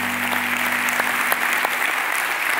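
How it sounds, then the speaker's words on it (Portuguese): Church congregation applauding steadily for the full stretch, a dense even roar of many clapping hands with a faint sustained tone beneath, no voices. "Ele merece uma salva de palmas"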